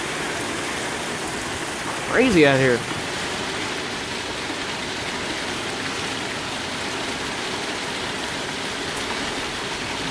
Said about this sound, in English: The wind has pretty much calmed down, but not the lightning and the rain. It is still pouring.